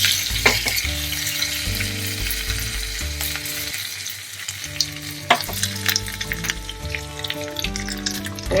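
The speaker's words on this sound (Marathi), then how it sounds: "थोडस तूप गरम करायचं आणि त्यात बारीक चिरलेला कढीपत्ता टाकायचा" Finely chopped curry leaves sizzle in hot ghee for a tempering, a loud, close crackling fry with stirring clinks over a steady low hum.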